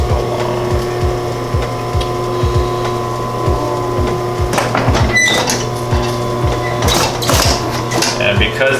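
Sewing machine stitching a leather duffle bag, a rapid rhythmic mechanical chatter of the needle running steadily and close, with occasional knocks and shifts in pace.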